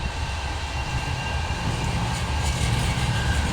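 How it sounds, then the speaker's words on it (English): A tram rumbles past with a steady, continuous roar and faint rail hiss, loud and close throughout. "Tram!"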